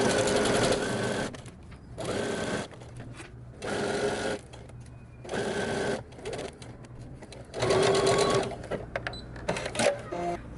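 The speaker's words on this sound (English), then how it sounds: "Go back to your sewing machine, stitch along the edge of your zipper." A sewing machine stitching in several short bursts of whirring, separated by brief pauses, close by and steady in pitch during each run.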